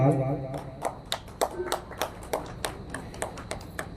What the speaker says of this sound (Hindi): तालियों के साथ अभिनंदन करें